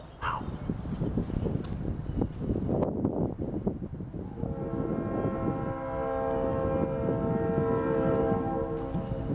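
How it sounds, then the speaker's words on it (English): A train rumbles past a park with a steady, loud roar and bright metallic screeching tones building in the second half; some indistinct voices early on. "You got trains going by"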